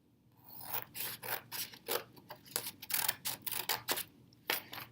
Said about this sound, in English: I'm going to take a pair of scissors and I'm going to cut out my sides.